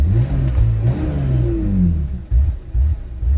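A BMW E46 engine with a suspected bad fuel pump and vacuum leaks revs lightly up and down, a loud, close, rising and falling mechanical rumble that dips briefly and then returns in short blips.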